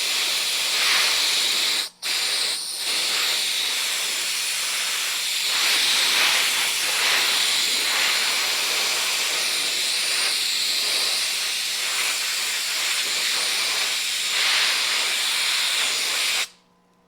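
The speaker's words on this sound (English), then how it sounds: "Now let's go over and air dry it." Loud, steady hiss of compressed air blowing over a freshly plated part from a 1973 Suzuki TC125 motorcycle, close and continuous with one brief cutoff near the start before stopping abruptly at the end.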